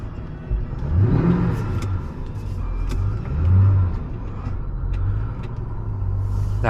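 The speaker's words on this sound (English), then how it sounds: "Hear that nice supercharged V8 whine." A supercharged V8 engine in a 2004 Mustang SVT Cobra rumbles and revs, heard from the cabin, with rising tonal sweeps as it accelerates and a faint high supercharger whine over the low drone.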